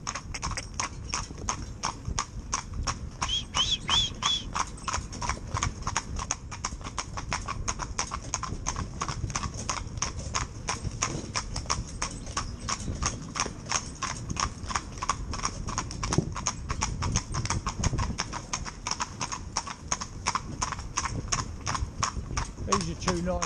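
Hooves from two horses driven in tandem clip-clop in a quick, steady rhythm on a road, close and continuous, with faint wind and occasional background noise.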